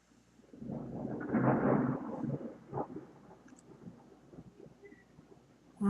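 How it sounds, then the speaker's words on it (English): Outdoor thunder builds into a deep, rolling rumble that peaks and slowly fades over several seconds, fairly loud and heard alone. "that was a pretty big thunderclap out here"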